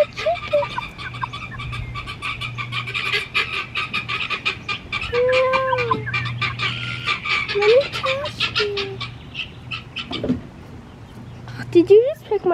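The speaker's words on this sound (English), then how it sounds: "There is my chicken." Chicken clucking in a farmyard, several short clucks and calls scattered among other birds, close and moderately loud under a woman's chatter, with a steady low hum behind.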